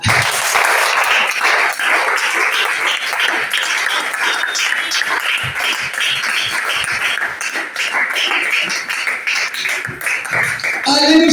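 A church congregation applauds in a loud, sustained burst of dense clapping that fills the room, with voices mixed in and a brief swell near the end.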